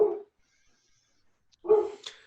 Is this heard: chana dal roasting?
no